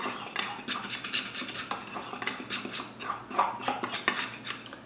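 A spoon stirs a dry spice mix of cayenne and freshly ground black pepper in a bowl, giving quick, rhythmic metallic scrapes and clinks close up.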